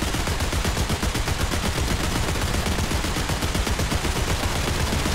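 A .50 cal machine gun in War Thunder fires in a long, unbroken burst of rapid, loud, even shots for several seconds, with no talking over it.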